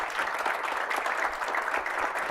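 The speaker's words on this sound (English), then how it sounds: "don't stop clapping" Conference audience applauding sponsors during a drone foundation keynote welcome, a steady, even wash of many hands clapping throughout, moderately loud with no talk over it.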